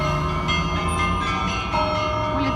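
Church bells on Maroseyka Street ring with sustained, overlapping metallic tones and repeated strikes, loud and resonant throughout.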